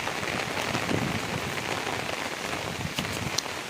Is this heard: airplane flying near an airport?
no